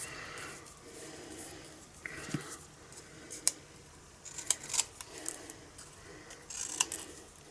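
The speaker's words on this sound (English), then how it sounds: "I'm actually just going to cut round the edge with my scissors just to get rid of the excess white" Scissors snip around the edge of white cardstock at a craft table, a quiet scatter of sharp, irregular cutting clicks and paper rustles close by, with no talking.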